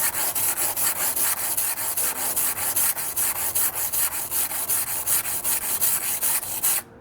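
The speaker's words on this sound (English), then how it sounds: "Now I can grind and I rotate." A kitchen knife with a damaged edge and tip is ground freehand on a sharpening stone, giving steady rhythmic rasping strokes, about two per second, close and alone, ending abruptly.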